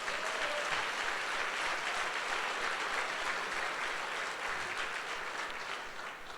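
A church congregation at a Sunday service breaks into sustained, thick applause that fills the room evenly and fades slightly toward the end.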